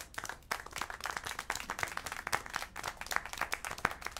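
A crowd in the video game Syberia: The World Before keeps clapping, and the hand claps come as a busy, sustained patter of sharp individual claps for several seconds.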